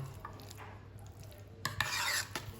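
Cubed cheese being stirred into cooled steak and dark beer pie filling, soft close scraping and rubbing of a spoon against a bowl, quiet at first then louder in the final second.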